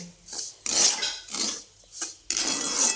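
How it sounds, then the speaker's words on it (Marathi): Semolina roasting in ghee in a pan, close scraping strokes of a spoon across the pan in a steady back-and-forth rhythm, with a soft sizzle between strokes and no talking. "आता गरा चांगला भाजते"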